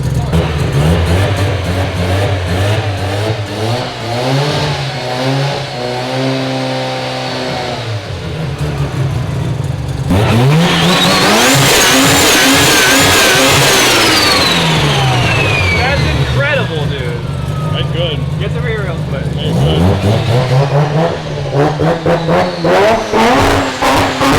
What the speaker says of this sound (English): I think I might like revving Rotaries better than ITV cars.